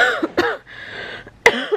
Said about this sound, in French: je sais pas pourquoi je tousse mais je pense que c'est une toux allergique